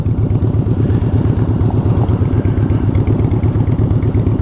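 A big motorcycle engine runs steadily close by, a loud, continuous low rumble with a pulsing clatter that holds an even idle-like rhythm throughout, with no talking.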